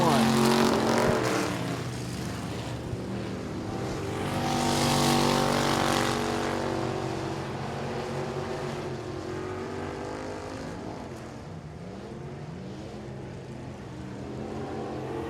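Street stock race cars roar around a speedway during a heat race, a loud steady engine drone that swells as the pack passes and then settles, with a commentator talking over it.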